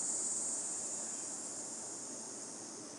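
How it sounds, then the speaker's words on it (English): Cicadas drone in the background outdoors at midday, a continuous high shrill buzz holding steady and fairly faint over a low ambient hush, with no one speaking. "Cicadas in the background."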